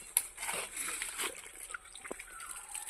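Water splashes and trickles onto newly planted seedlings that had gone two days unwatered, in uneven close pours and splatters.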